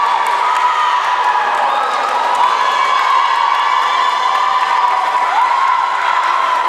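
Teammates cheer and shout for a swimmer racing the 100-yard butterfly at a high school swim meet against North Attleboro, a steady, loud crowd roar of whoops and yells echoing through an indoor pool throughout.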